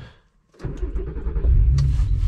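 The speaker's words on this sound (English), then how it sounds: "Ooh, our first POV drive in the R32." A Nissan Skyline R32 engine rises from near silence into a low, rumbling drone that grows louder as the car pulls away and accelerates, with a brief higher rattle near the end.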